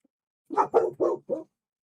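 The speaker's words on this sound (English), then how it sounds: "you hear the dogs outside." Dogs outside bark four times in quick succession, fairly close and clear, with brief pauses between barks and silence around them.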